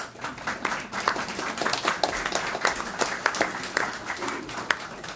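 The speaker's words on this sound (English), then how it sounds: "Somebody started that clap." Audience at an Osceola School District board meeting breaking into steady applause, many hands clapping in a dense, continuous patter with a few sharper individual claps standing out, moderately loud and sustained throughout.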